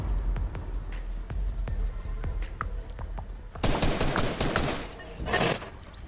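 Gunfire in a Deadpool video game with a sniper nearby: a run of sharp, evenly spaced shots, then a denser, louder burst of blasts and clatter in the final seconds, with no talk.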